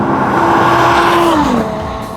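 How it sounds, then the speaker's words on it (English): Audi R8 V10 with an Akrapovic exhaust, a 2017 supercar on a ride, roars loudly and steadily close by, its engine note holding high then dropping and easing off toward the end. "While the V10 in the Audi R8 is fantastic on its own, this car happens to be equipped with the Akrapovic exhaust"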